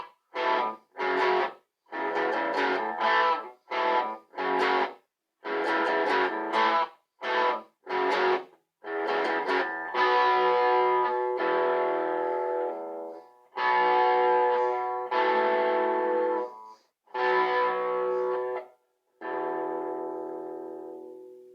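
Electric guitar driven through a Tone City Durple overdrive pedal plays a riff with 70s crunch: clipped staccato chord stabs, then longer sustained distorted chords ringing out, loud and upfront with no voices.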